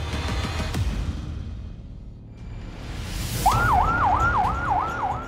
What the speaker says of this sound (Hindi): चीखते सायरन, भागते लोग और आसमान से बरसती मौत